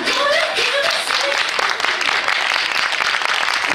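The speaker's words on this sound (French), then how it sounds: "Vous avez raison de les applaudir, mesdames et messieurs, encore plus fort." Applause from the audience at a Miss Poitou-Charentes preselection pageant in Parthenay, with dense, steady clapping sustained throughout and music fading beneath it.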